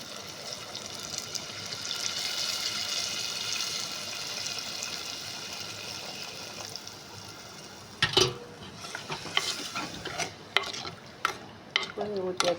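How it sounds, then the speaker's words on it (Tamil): Dissolved tamarind water is poured into a village-style fish curry pan, a soft sizzle and liquid rush giving way to bursts of spoon scraping and clatter near the end, close and fairly quiet. "கரைச்சி வச்சுருக்க புளியை ஊற்றும்"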